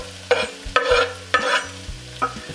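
Leek and onion fry gently in a pan until glassy, with soft sizzling broken by several sharp stirring scrapes in an irregular rhythm, close and fairly loud with no talking.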